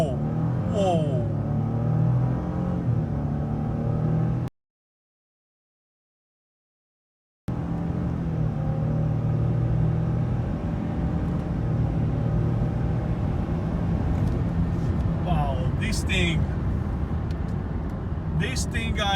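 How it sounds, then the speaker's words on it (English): A Ford F150 pickup with the 3.5 EcoBoost twin-turbo V6 accelerates hard from a launch, its engine note climbing through gears in a steady loud roar under excited talk from inside the cab, broken by a few seconds of total silence. "This twin turbo V6 hauls ass."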